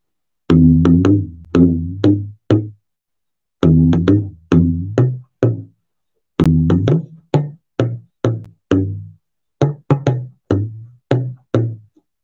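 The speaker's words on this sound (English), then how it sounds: "the left hand drum where he plays melodic notes" Tabla strokes on the left-hand drum with bending pitch play a sparse melodic phrase in short groups separated by pauses, close and clear.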